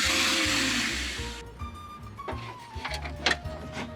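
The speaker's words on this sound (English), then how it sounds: "Let's vacuum out the door." A vacuum cleaner works inside the door of a Nissan S14, a loud whine at first that drops in pitch and fades, followed by rattling, knocking handling noises over a low repeating hum.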